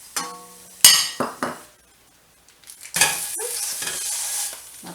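Ground beef drops into an already hot pan and sizzles in short bursts with a few spoon clinks, then a quiet pause before a steady, close frying hiss takes over while the meat is broken up.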